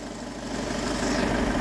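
A 2-litre diesel Peugeot Expert van engine idles nearby, a steady, loud low-pitched clatter and hum that rises slightly in level and holds even throughout.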